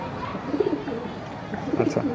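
A khaki pigeon, held in the hand, gives soft low coos in two short bursts close by, over faint background noise.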